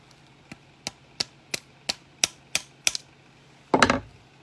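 A wooden dowel rod is tapped down through a gun barrel while slugging it, giving eight sharp, evenly spaced taps that grow slightly louder, close and alone, then ending in a brief rough clatter.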